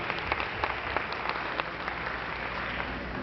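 Audience applause at an empowerment meeting presentation: a dense, steady patter of many hands clapping together, moderately loud and continuous throughout, with no talking over it.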